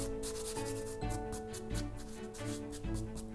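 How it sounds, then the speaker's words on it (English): A brush sweeps excess flour off rolled pastry dough in quick repeated strokes, a soft rhythmic scratchy rubbing heard close up with no talking. "Then I'm going to brush off any excess flour."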